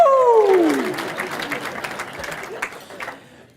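A crowd at a chamber of commerce Irish breakfast claps together, a dense wash of applause that is loudest at the start and gradually thins and fades. A bright whooping cry slides down over the clapping at the very beginning.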